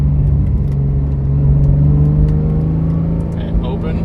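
Porsche GT3 exhaust with its valves open while downshifting, a loud, steady, deep engine drone with a rising, rumbling tone that holds close-up throughout.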